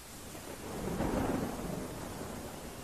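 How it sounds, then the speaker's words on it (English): Storm at sea ten miles off the Whitby coast, staged as a horror drama effect: a heavy, continuous rumble of thunder swelling near the middle over steady rain and wind, loud and close with no voices. "We're out in a storm about 10 miles off the coast of Whitby."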